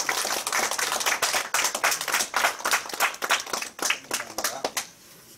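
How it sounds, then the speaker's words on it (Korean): A small crowd gives a burst of applause at a mask donation ceremony for Christian organizations: close, uneven claps in a strong rhythmic patter that breaks off abruptly near the end. "박수 한번 하세요."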